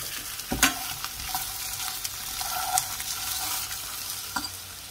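Onions in olive oil sizzle steadily in a pan while being stirred for a courgette gratin, a soft continuous frying hiss broken by a few sharp utensil clicks.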